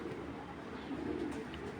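Imported foreign racing pigeons coo softly in a loft, a steady low murmuring of several birds close by with no speech over it.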